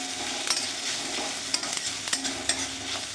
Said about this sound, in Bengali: এবার পেঁয়াজ কুচিটা দেওয়ার পরে খানিকক্ষণ ভাজতে থাকবো।